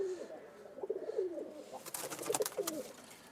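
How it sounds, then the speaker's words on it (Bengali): Giribaz pigeons coo in repeated soft, rolling calls, close and fairly quiet, with a few wing flaps and light background rustling. "দাগ কবুতর, হলুদ ত্বকের।"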